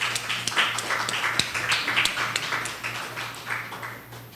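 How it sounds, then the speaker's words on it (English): An audience claps steadily at a memorial lecture, a dense, even patter of many hands that holds throughout and fades slightly toward the end, with no speech over it. "Please give him a round of applause"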